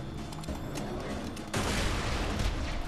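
Gunfire and a grenade blast in Borderlands 2, rapid gunshots rattling for a second and a half before a sudden louder burst of explosion noise takes over and holds to the end.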